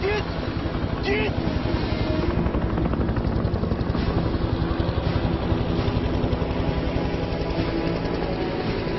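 A helicopter's rotor thumps in a steady, loud chop that fills the scene, with voices shouting over it, in a Cypriot TV drama.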